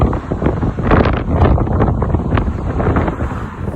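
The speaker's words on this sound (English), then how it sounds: "boy, is it blustery out here" Strong gusty wind buffets the microphone outdoors by the Las Vegas sign, a loud, continuous rumbling roar that surges and eases for several seconds with no talking.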